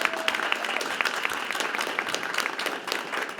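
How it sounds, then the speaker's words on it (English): A ceremony audience gives a round of applause, a crowd of many clapping hands at moderate loudness, with a few louder claps standing out, continuing for a few seconds. "Let's give her another big round of applause."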